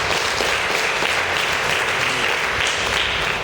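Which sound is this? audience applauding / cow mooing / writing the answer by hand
audience applauding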